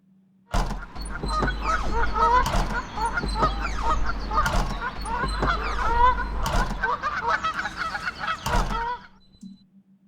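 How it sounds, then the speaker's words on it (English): Loud, busy honking from a large group of geese, overlapping calls with occasional sharp bursts, steady throughout before ending abruptly. "Geese, how exciting."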